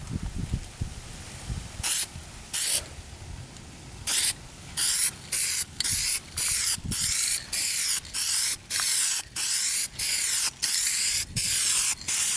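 Spray paint hisses in about a dozen short, regular bursts as light coats go onto a car's molding trim, each pass loud and close with brief gaps between.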